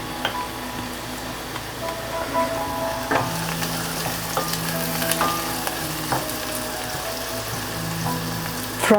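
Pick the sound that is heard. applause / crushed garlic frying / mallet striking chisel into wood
crushed garlic frying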